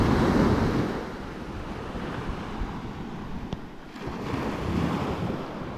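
Ocean waves breaking at Mount Maunganui main beach near an artificial surf reef, a steady broadband wash of surf mixed with wind noise on the microphone, swelling at the start and end with a brief sharp tick midway.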